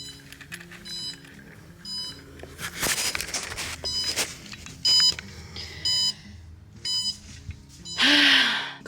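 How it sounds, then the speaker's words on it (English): Pottery kiln controller alarm sounding after the kiln failed to fire fully to temperature, likely from a broken part: repeated electronic beeps in short bursts, fairly close, over faint room noise and some movement, with a louder sustained burst at the end. "It's the sound that the kiln has decided to not fire completely to temperature, and it's usually because a part has broken in it."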